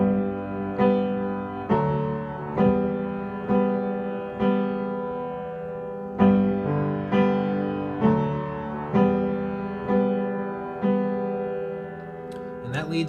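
A piano plays a worship song, with steady chords struck in an even rhythm and a simple root-note bass, each chord ringing and decaying, close and moderately loud with no talking.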